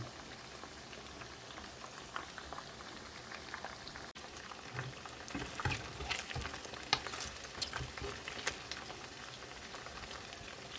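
Oil sizzling and crackling steadily as chicken wings fry in a pan, with scattered pops and spits throughout.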